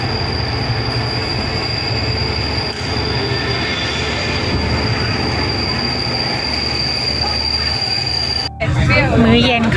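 The Royal Blossom train running to Hua Hin rumbles loudly and steadily, with rattling carriages and squealing wheels, heard from inside; a voice briefly speaks near the end.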